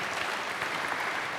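A church congregation applauds during an online worship service, dense steady clapping filling the whole short moment with no voices above it.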